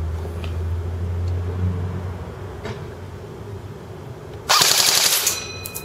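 An A&K ACR Masada airsoft rifle fires on full auto in one loud, rapid rattling burst that starts suddenly near the end, over a steady low background hum.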